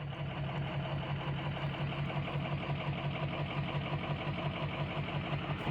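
A Cummins truck diesel engine idles steadily and close by with a deep, even rumble and faint knocking texture, rising slightly as it is given a mild rev, with no talk.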